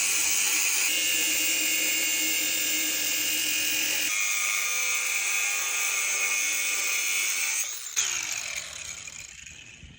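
An angle grinder cuts through a metal bar in a home garage, a loud, steady high-pitched whine that shifts in tone as the disc bites, then spins down near the end.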